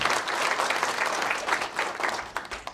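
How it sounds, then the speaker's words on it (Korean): Steady applause from a sizable crowd at a founding general meeting held at the National Assembly Library in Korea, dense and continuous clapping that holds evenly throughout with no voices on top. "여러분 큰 박수를 보내주시면 고맙겠습니다."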